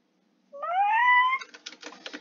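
A single cartoonish cat meow from the Floppa character in a Roblox game, loud and close, a rising drawn-out tone lasting about a second, followed by a few short clicky tapping sounds.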